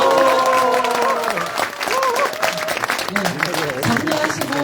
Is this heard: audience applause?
yes